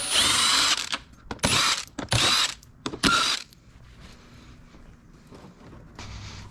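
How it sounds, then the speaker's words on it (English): A power tool backs T30 screws out of a car license plate in several loud, close whirring bursts with ratcheting clicks between them, then a quieter stretch and a final shorter whir. "I'm gonna start out with removing my license plate. Take all of these T30 screws."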